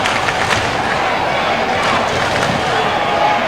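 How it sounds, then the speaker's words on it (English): A crowd at the SCG in Sydney roars as the Swans take the lead against Melbourne in a 1994 Australian football match, a loud sustained cheer with a few sharper swells near and far. "Crowd comes to life at the SCG as the Swans hit the front for the first time"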